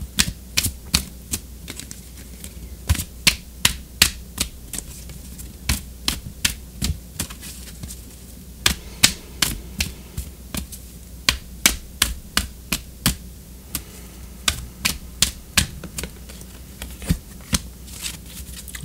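Oracle cards being shuffled and drawn, a close series of crisp, sharp card snaps and flicks in an uneven rhythm, fairly loud with quiet gaps between, no talk.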